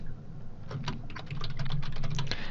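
A computer keyboard is typed on in quick, close clicks, a short burst that grows denser partway through, with no voices.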